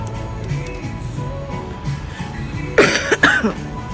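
Two sharp, loud coughs close to the microphone near the end, following a stretch of quieter background murmur.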